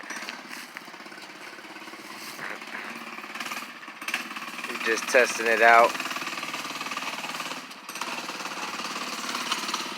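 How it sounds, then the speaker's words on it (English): A gas-converted Razor MX500 minibike with a 79cc engine and dual exhaust idles with a rapid, rattling putter that swells into a brief rev midway, while someone talks over it. "The Razor we converted to gas. 79cc engine. Put a dual exhaust on it."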